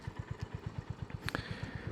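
A Honda GB350R motorcycle exhaust thumps in a steady, rapid low pulse at moderate distance, with a brief higher clatter partway through.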